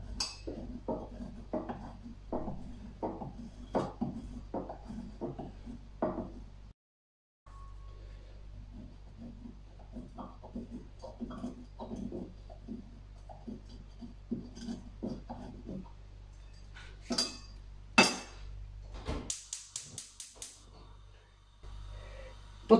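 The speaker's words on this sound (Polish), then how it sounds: "Parmezan musimy zetrzeć na tarce" Parmesan cheese is rubbed against a hand grater in a quick run of rasping, scraping strokes. The strokes stop briefly, then resume more irregularly, and a few sharper metallic clinks come near the end.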